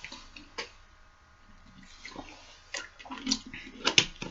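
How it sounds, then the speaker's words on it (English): Someone takes a swig of water, with soft sloshing, a few gulps and small wet mouth sounds, close and quiet with no talking. "There's a swig of water."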